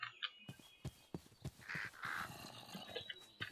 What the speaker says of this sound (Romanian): Bufniță.